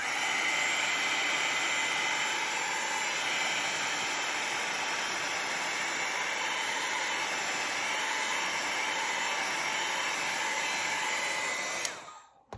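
A hair dryer blows steadily for about twelve seconds to dry wet green watercolor paint on a paper page for a scrapbook layout, a loud, even broadband whoosh that cuts off abruptly at the end.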